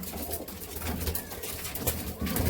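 Teddy pigeons at a pigeon sale in Kolkata coo softly, with low, repeated throaty calls at close range over a quiet background.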